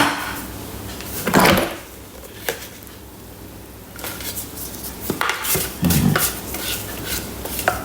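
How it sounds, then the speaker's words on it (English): A spatula scrapes down the sides of a Thermomix bowl during vegetable stock paste preparation: a few short, scratchy scrapes near 1.5, 5 and 6 seconds, close and fairly clear, separated by quiet gaps with no talking. "scrape down the sides of the bowl with the spatula"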